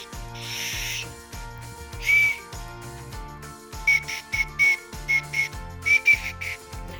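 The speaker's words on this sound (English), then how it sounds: "You want to try the wiener whistle?" A Wienermobile wiener whistle gives a series of short, shrill toots: one early burst, then a quick run of bursts and a final blast, over steady background music.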